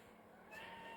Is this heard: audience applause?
no